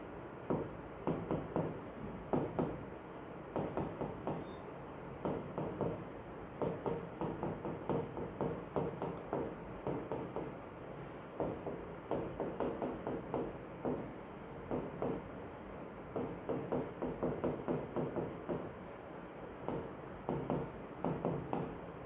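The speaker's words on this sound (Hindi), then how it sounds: "एक और लिख लेते हैं क्वेश्चन" Pen steadily writing out a math question by hand on paper, a continuous close scratching with short rhythmic strokes and brief pauses, no speech.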